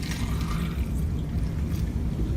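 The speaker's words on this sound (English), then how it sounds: "now I'm using strong alkaline, strong Kangen water to wash the tomato" Strong alkaline Kangen water pours steadily over a tomato being washed, a continuous close splashing trickle that fills the short moment without a break.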